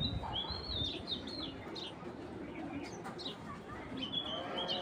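Racing pigeon, a club cock bird, cooing softly amid chirpy bird calls from a loft, with steady background noise and someone talking intermittently.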